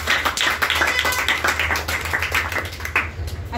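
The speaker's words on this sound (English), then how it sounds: "Clap for him, please." An audience claps for a student presenter at a presentation competition, a brisk run of distinct individual hand claps from a smallish group, close and steady throughout with no talking.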